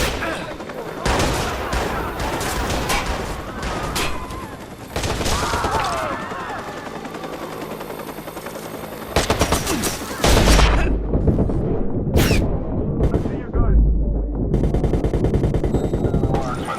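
Sustained gunfire in the video game Watch Dogs, with dense automatic bursts and heavy booming shots that are loud and continuous, and voices talking over the battle.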